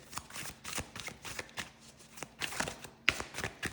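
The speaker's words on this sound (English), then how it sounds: "I wanted to shuffle in front of you guys" Tarot cards are shuffled repeatedly in quick riffling bursts, close and quiet, with small taps and pauses between rounds.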